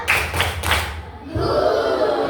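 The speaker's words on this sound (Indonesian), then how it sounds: "Ayo coba beri kelompok satu dengan tepukan jempol. Tepuk jempol." A group in a classroom does a thumb clap: three quick rhythmic bursts of dull, thumping claps, then a room of overlapping voices.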